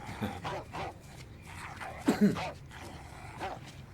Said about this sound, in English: If I didn't hear barking and anything like that, I wouldn't even know that was a dog chasing them.